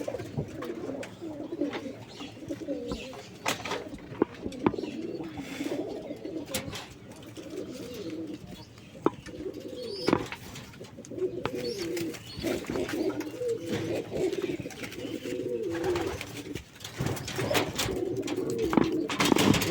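Raj Golla pigeons coo in a rolling, continuous chorus near a pigeon loft in Singair, Manikganj, with scattered clicks and wing or foot noises among the calls.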